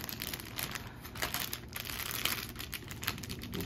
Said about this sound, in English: So a nice trick is get a plastic bag here.